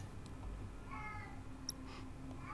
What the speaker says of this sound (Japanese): にゃんこか。